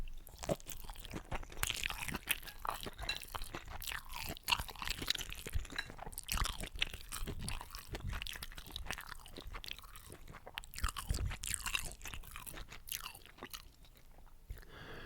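Someone chews a final bite of instant noodles up close, with soft, continuous crunching and wet mastication sounds and no talking.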